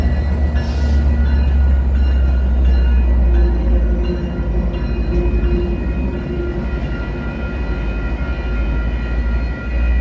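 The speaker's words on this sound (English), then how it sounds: "Metro train's pulling out." A Chicago Metro train pulls out through a tunnel beneath buildings, giving a loud, steady rumble with a humming, tonal whine that holds for the whole stretch and eases slightly near the end.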